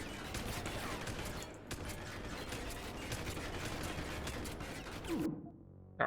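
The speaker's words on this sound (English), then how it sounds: "Ow, ow, who's shooting me?" Rapid gunfire aimed at the player in Deus Ex: Human Revolution, with a steady clatter of shots and mechanical rattling. It keeps going for about five seconds, then cuts to near silence.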